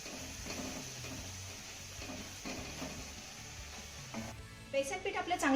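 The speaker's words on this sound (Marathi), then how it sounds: "हे घातलेलं बेसन पीठ आपल्याला एक मिनिटभर चांगलं परतून घ्यायचंय" Gram flour being sautéed with onion in a pan, a soft, steady stir-fry sizzle with light scraping, close up and continuous, brighter clatter at the end.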